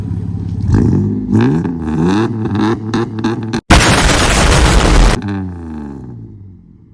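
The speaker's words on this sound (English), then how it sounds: "I'm gonna rev it up a little bit for you guys" A Dodge Dakota engine revved up close: a deep rumble climbs and falls in several quick blips, then a sharp, loud burst of rushing noise for over a second before the idle settles back down.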